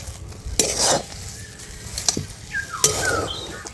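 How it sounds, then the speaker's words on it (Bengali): A spatula scrapes and stirs semolina in a wok as it cooks into a dough for a sweet, with soft sizzling and a few sharp metallic scrapes against the pan, close and with no talking. "সুজিটা দেখবেন এইভাবে নাড়াচাড়া করতে করতে একটা ডোয়ে পরিণত হয়ে যাবে আর কড়াই থেকে কিন্তু ছেড়ে আসবে"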